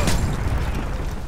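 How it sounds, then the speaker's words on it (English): A Predator missile explosion in Modern Warfare 3, a loud, close blast with a sharp burst at the start that fades into a rumbling, noisy tail. "Friendly Predator missile inbound."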